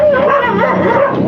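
Several dogs bark and yip loudly at close range, a rapid run of high, whining barks with no pause.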